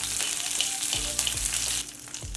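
Mustard seeds, cumin, slit green chillies and crushed ginger frying in hot oil in a kadai, a steady close sizzle with occasional sharp pops and crackles from the seeds, no voices.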